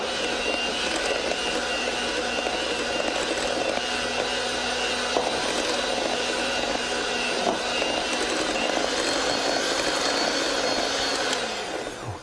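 A Cuisinart electric mixer whirs steadily with its whisks beating chocolate batter for a chocolate soufflé cake, a loud continuous motor drone that holds evenly and then winds down at the end.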